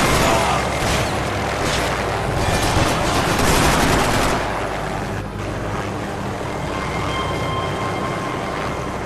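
Heavy firefight in the video game Max Payne 3, dense rapid gunfire and crackling shots layered over a constant roar, loud and close for several seconds before easing into a steadier rumbling background.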